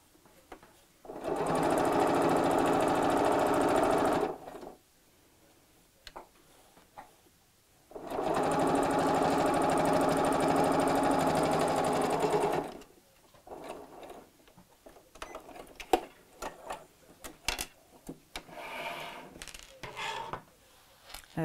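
A sewing machine stitches a chenille clutch bag in two long steady runs of a few seconds each, separated by a pause, followed by scattered clicks and fabric handling.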